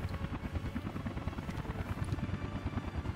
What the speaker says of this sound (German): Die Hubschrauber sind voll dabei schon wieder.